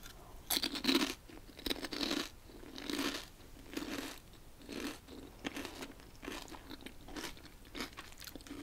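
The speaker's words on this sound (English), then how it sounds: "they still have that crisp quality to them. Where you know that you're eating crisps." Greek oregano-flavoured crisps crunched close to the mic, a steady run of crisp bites and chews repeating about once a second, fairly quiet with no talking.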